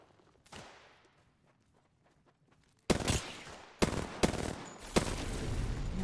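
Gunfire in the video game Apex Legends: one sharp shot with a ringing tail, a quiet stretch of faint clicks, then a loud, dense volley of rapid automatic fire with several hard bursts, close and fierce.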